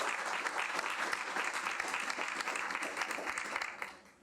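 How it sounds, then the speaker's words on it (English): Audience applause for a basketball coach at a school board meeting, a steady patter of many hands clapping at moderate loudness that fades out near the end. "let's give him a big round of applause for a terrific job they've done this year"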